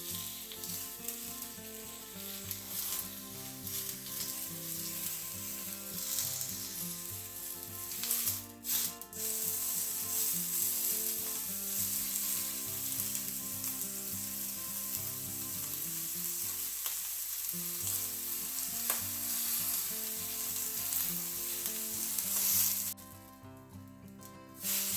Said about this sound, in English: I'm just going to seal the side of the steak first before we put it flat down.